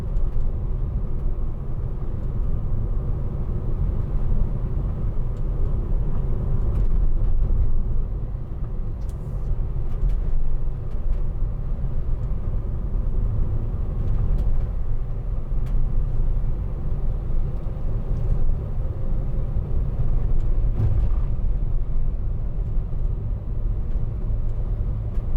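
A 2009 Mercedes-Benz Vito 115CDI long panel van drives along a bumpy road, giving a steady low cabin rumble with road noise and occasional sharp knocks and rattles from the bumps, with no one talking.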